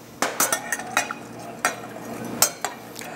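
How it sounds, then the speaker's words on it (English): Vinegar, pickling juice, sugar and salt being combined in a pot for pickled eggs, a handful of close metallic clinks and scrapes of a utensil against the pot at irregular intervals, no talking. "I start by combining the vinegar and the pickling juice, the sugar, the salt"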